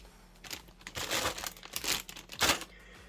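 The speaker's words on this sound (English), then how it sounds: "So I will open up all these plastic bags" Plastic bags of model kit runners for a Harut kit are torn open and handled, giving repeated loud crinkling and rustling bursts close by, with short pauses between handfuls.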